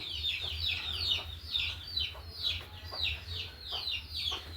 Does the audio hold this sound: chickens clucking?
yes